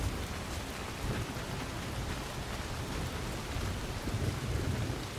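Heavy rain and a thunderstorm in the video game Soulmask, a dense steady downpour with low rumbling thunder throughout, loud and close with no talking.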